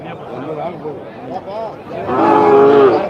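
Calves and cattle low loudly at a busy livestock market, a couple of short moos followed by a long, drawn-out bellow close by, with faint crowd chatter in the background.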